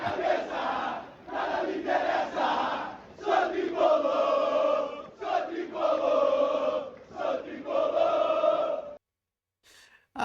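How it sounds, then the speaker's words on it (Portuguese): Fluminense football supporters chant loudly in unison, with rhythmic sung phrases that swell and dip before cutting off near the end. "A festa da torcida é o grande barato do esporte"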